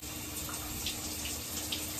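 A bathroom tap runs in a steady, even rush of water while conditioner is rinsed out of curly hair, continuous and fairly close, with no talking.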